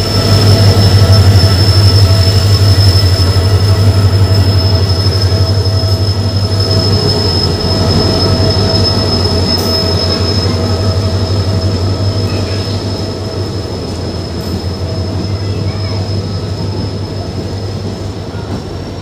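The Danapur–Jogbani train pulls into Raghopur railway station, a loud, close rumble of railway wagons with squealing wheels and a high whine, fading slightly as it slows.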